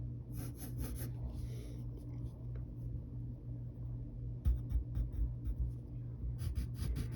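A pencil sketching a jacket sleeve on paper for a Black Canary drawing makes close, quiet scratching in short bursts of rapid strokes separated by pauses over a low steady hum, with no talking.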